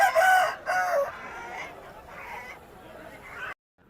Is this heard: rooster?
yes